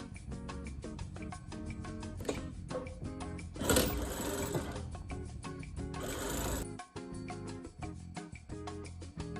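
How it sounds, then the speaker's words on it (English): A sewing machine stitches a drawstring channel into a hoodie hood, running steadily in close, loud bursts of rapid needle strokes with brief pauses between runs. "I am sewing the channel 3 centimetres from the folded edge"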